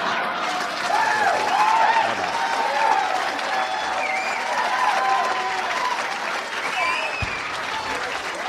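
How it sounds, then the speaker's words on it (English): An audience gives a comedian a big round of sustained applause, mixed with crowd whoops and shouts, loud and steady throughout. "Big round of applause, Pat Paulsen for 1988."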